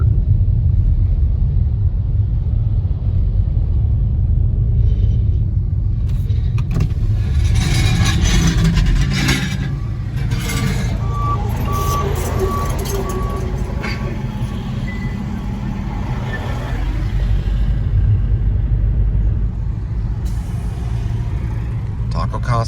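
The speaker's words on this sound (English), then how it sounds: "They got steamroller going." A steamroller works on road repaving with a heavy, low, continuous engine rumble that swells and eases, mixed with passing vehicle noise while a person talks throughout.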